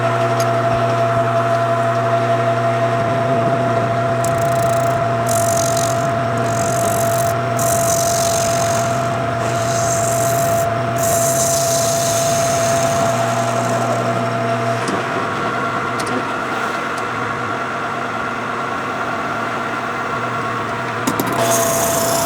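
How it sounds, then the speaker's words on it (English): A metal lathe in a workshop drills a center hole and then takes a skim cut, giving a steady, loud machine hum with a constant tone that runs throughout, broken by a few brief scraping bursts of cutting. "let's go over to the lathe and we'll just take a cut"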